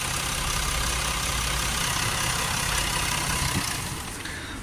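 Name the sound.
Range Rover 3.0 engine idling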